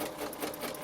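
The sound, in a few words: sewing machine stitching along template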